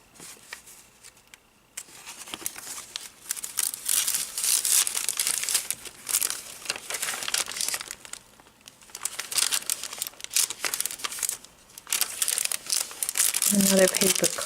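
A glassine bag crinkling and rustling as it is handled close up for a prayer journal, with bursts of crisp crackle that stop and start, and a brief low thump near the end.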